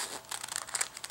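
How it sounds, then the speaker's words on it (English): Scissors cutting a pattern out of parchment paper make a brief, close burst of crisp crinkling and snipping with no voices. "I'm just going to take some scissors and I'm going to cut out"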